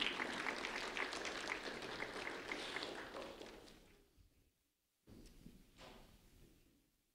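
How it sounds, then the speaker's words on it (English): Audience applause for Kenny Gaspard, a 4th grade student, at a sheriff's office recognition event: a dense, loud burst of clapping that fades out, then after a brief silence a shorter, softer spell of clapping. "a round of applause for Kenny Gaspard"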